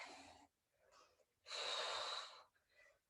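Heavy, effortful breathing during a timed bodyweight workout, a few hard breaths with one long loud exhale in the middle, close and alone without speech.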